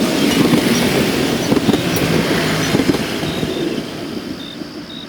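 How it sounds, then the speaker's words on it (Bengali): A train pulls into a station platform and comes to a stop at night, with a loud rumble and clattering wheel knocks that gradually fade while thin squealing tones linger near the end. "ট্রেনটা এসে ঠিক প্ল্যাটফর্মে থামল।"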